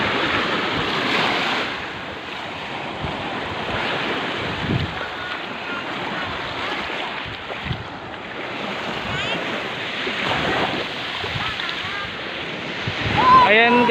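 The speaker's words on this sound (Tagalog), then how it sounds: "Sarap maglakad dito sa ano, gilid ng dalampasigan." Ocean waves breaking on the shore at Patar Beach in Bolinao, Pangasinan, a continuous wash of surf mixed with wind buffeting the microphone, with a voice speaking faintly at times.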